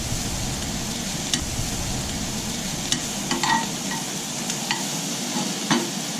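Mushrooms frying in a hot pan for a steak dish, a steady close sizzle with scattered crackles and pops and occasional stirring clicks.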